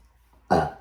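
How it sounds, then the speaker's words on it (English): A single short burp after drinking Diet Coke, abrupt and fairly close, lasting under half a second after a brief quiet moment. "I burp when I have soda"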